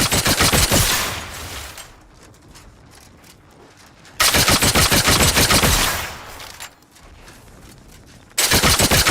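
A wrist weapon fires in rapid automatic bursts in The Outer Worlds 2: three loud, close volleys of rattling shots, each a couple of seconds long, separated by quieter stretches of lingering echo and background rumble.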